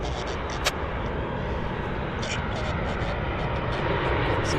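Jet airliner landing at Vancouver Airport, a steady broadband roar of engines and rushing air holding level throughout, with faint talk underneath.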